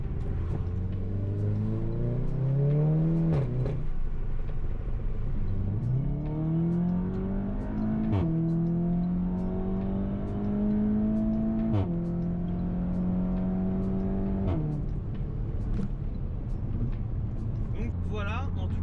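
A Seat Leon Cupra 5F revs hard through repeated climbing sweeps, its engine note rising then dropping sharply between pulls, loud and close with a slight crackle on each shift.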